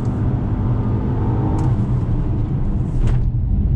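Steady engine drone and road rumble from a 2020 Nissan Maxima held at constant RPM while being driven hard through bends, a continuous loud interior hum with no talking.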